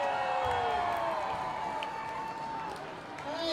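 A crowd at a high school homecoming football game cheering and clapping for the cheer team, a broad wash of voices and applause from the stands, with a public-address voice over it.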